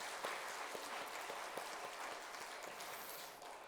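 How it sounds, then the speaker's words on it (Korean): A church congregation claps for the choir during a Sunday service, scattered hand claps with some distinct sharp slaps over a soft, fairly quiet patter. "우리 찬양대원들 고생하신 우리 박수 한번 보내주시면 좋겠습니다."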